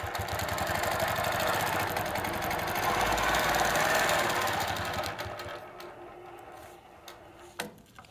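Innova longarm quilting machine stitching with a ruler foot along a template: a rapid, even mechanical ticking hum running steadily and close, then slowing and fading to quiet with a few soft clicks.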